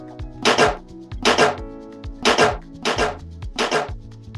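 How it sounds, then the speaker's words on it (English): Güiro scraped in five evenly spaced bursts, each a rough ratcheting rasp lasting about half a second, close and fairly loud with short pauses between strokes. "another Güiro."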